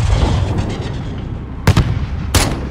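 Two sharp booms from a mortar or flare launch in Call of Duty: Modern Warfare, heard in a combat scene at an embassy, rising briefly out of a dense rumbling game soundscape.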